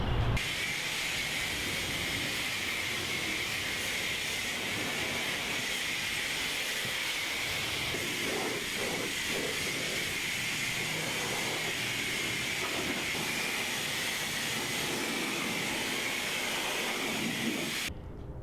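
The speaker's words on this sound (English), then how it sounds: "we want to power wash the plow, the lift frame, and undercarriage to get rid of all the salt and road grime." A power washer sprays steadily over a SnowDogg snow plow, its lift frame and undercarriage to clear salt and road grime, producing a loud continuous hissing roar that runs unbroken and close for the whole stretch.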